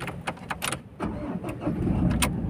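A 2.2-litre, 150-horsepower Mazda BT-50 Pro pickup engine cranks over in a few quick bursts, then catches and settles into a steady, close idle rumble.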